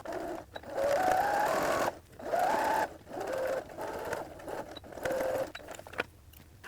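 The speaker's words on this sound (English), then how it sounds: "I need to just do a top stitch right here just to hold this part in place" Sewing machine top stitching fabric on a McCall's 7476 garment: close, whirring motor runs in several bursts of one to two seconds, pitch rising and settling, separated by short pauses, no talking.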